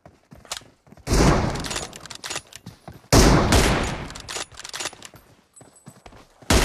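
Bursts of automatic gunfire from the PUBG Mobile shooter game, two long loud volleys separated by scattered single shots and thuds, with no voices.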